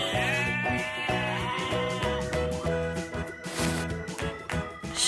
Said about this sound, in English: This is a sheep.